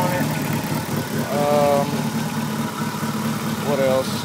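A DSM car with 264/265 cams idling, a steady loud mid-pitched engine rumble with a slightly lumpy pulse, and a couple of brief whining tones riding over it.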